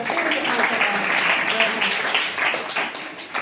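An audience claps to welcome guests at a birthday function for poor orphan children held at a religious mutt. The applause is a dense, fairly loud burst lasting a few seconds, with voices mixed in.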